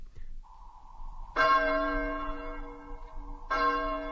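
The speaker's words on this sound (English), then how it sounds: "The passing bell is heard." A passing bell tolls twice in a sound-effect scene, each deep, harmonically rich stroke ringing out loud and decaying slowly, with a faint higher tone before the first strike.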